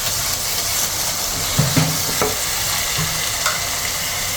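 A tadka for eggplant bharta sizzles loudly and steadily in hot oil, with occasional stirring scrapes and clinks and no voices.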